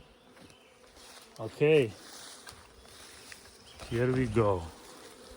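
Bees humming faintly around a log hive, a soft steady drone in the background while someone speaks briefly twice.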